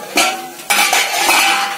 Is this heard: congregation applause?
no